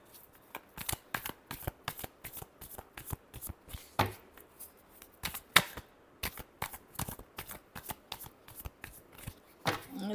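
A deck of tarot cards is shuffled close up, producing quiet, quick riffling snaps and soft slaps in an uneven rhythm, with no talking.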